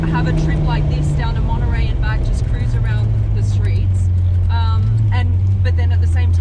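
Supercar built for a world speed record cruising on streets with smooth clutch engagement, a steady low engine drone that shifts pitch partway through, under continuous close talk.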